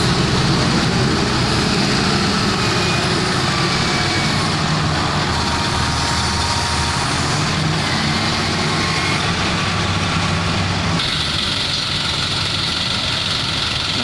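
Idling trucks and engines fill a traffic jam in Cikarang, West Java, Indonesia, a loud, steady low rumble with broadband road noise lasting throughout, without talk.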